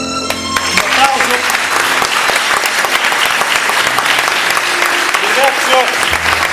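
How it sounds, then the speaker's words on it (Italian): A theatre audience applauds steadily and loudly from start to finish, a dense wash of many hands clapping together. "Un applauso"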